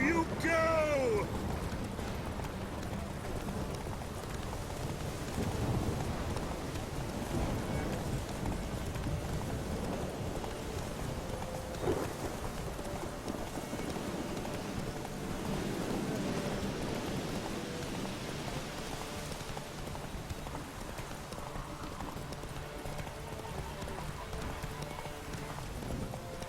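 Hooves of racing horses clip-clop in a fast, steady gallop throughout a horse race in The Witcher 3, with voices and a light rain-like hiss underneath.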